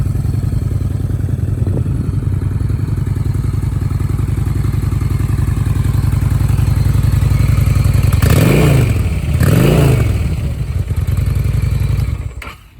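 A 2019 Honda Shadow Phantom motorcycle engine idles steadily up close with a low, even rumble, then gets two quick throttle blips near the end before cutting off.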